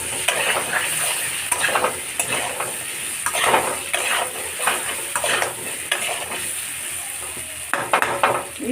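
Turmeric being stirred into food frying in a pan, with steady sizzling and repeated scraping, clinking strokes of a utensil against the pan, close and continuous with no talk.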